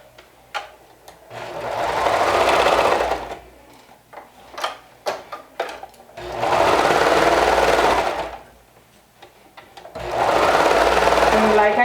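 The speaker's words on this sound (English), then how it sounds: "I'm going to run it through my serger using a 3/8 of an inch seam allowance." A serger runs a seam in three loud, steady bursts of rapid stitching, with quiet snipping and handling noises between runs.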